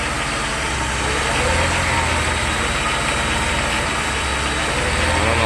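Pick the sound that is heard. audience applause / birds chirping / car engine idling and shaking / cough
car engine idling and shaking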